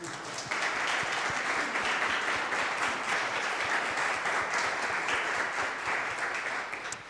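Sustained applause from a crowd at a science talk, dense steady clapping that holds for several seconds before tapering slightly at the end.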